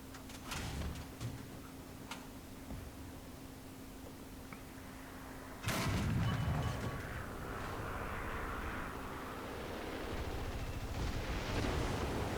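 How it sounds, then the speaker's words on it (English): Bombs explode in War Thunder around a German Jagdpanther tank destroyer, a sudden heavy blast landing midway followed by a lingering roar and rumble over a continuous engine drone. "Those are bombs, bombs, bombs."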